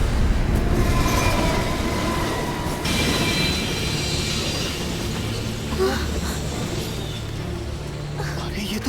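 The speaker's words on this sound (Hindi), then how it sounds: "अरे ये तो वही ट्रेन है जिसमें अभी ब्लास्ट हुआ था" A train rolls past steadily, with dense rumbling and rattling of wagons that holds at a loud, even level throughout, and faint voices mixed in.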